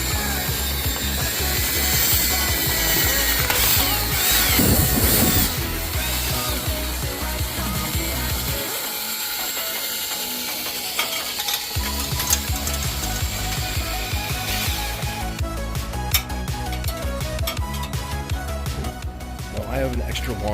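A ratchet clicks rapidly and repeatedly as dryer vent cleaning brush rods are turned, with mechanical rattling and scraping throughout and a person talking over it.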